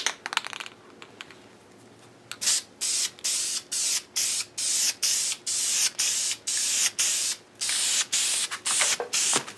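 Rattle-can spray paint hissing onto a Z28 air cleaner in a thicker second coat, about a dozen short, even bursts in a steady rhythm after a quiet start, close and clear.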